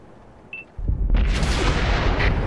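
An artillery gun fires in the World of Tanks video game: a brief faint beep comes first, then a single loud, close boom that rolls into a sustained rumbling blast and lingers to the end.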